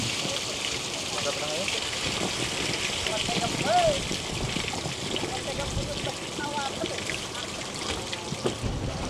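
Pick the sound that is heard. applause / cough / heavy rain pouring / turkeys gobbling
heavy rain pouring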